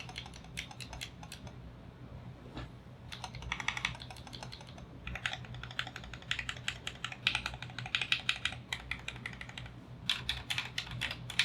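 Typing on a KBD75v3 75% mechanical keyboard with Durock 65g linear switches, a quiet, close run of quick clacky keystrokes in uneven bursts with short pauses, no voices.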